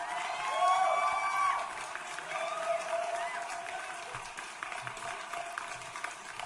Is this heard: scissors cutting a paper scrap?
no